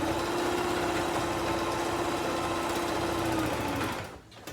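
A sewing machine runs a straight stitch while making a one-piece garment, a steady, loud, continuous mechanical whir with a constant hum that stops abruptly near the end.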